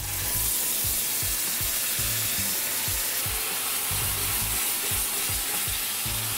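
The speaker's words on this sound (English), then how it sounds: "As they sizzle, they're infusing their flavor." Basil and parsley sizzling in hot oil, a continuous loud, close hiss with a dense crackle and a faint rhythmic low thumping underneath.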